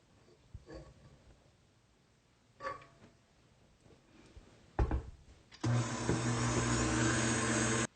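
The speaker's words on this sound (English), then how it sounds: "whisk my whipping cream until stiff peaks form" Stand mixer fitted with a whisk attachment whipping cream, a loud steady motor whir starting abruptly partway through and running continuously to the end, preceded by a few faint kitchen knocks.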